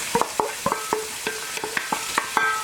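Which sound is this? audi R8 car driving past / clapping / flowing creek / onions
onions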